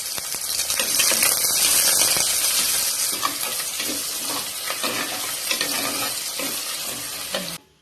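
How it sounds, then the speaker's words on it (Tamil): Garlic cloves and small shallots sautéing in oil for a brinjal gravy, a loud, continuous sizzle with steady stirring scrapes, fading out at the end. "ஒரு 10 சின்ன வெங்காயம் எல்லாத்தையும் போட்டு நல்லா வதக்கிக்கலாம்"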